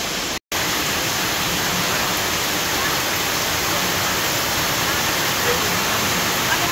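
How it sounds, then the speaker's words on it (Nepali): Heavy rain pours steadily across a town square, a dense, even roar of downpour that fills the whole scene without pause. "चोकमा चाहिँ यस्तो पानी परिरहेछ क्या, बबाल पानी परिरहेछ"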